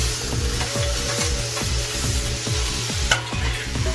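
Onion, green chili, ginger and tomato fry in a pan while a spoon stirs them in regular scraping strokes over a steady, close sizzle.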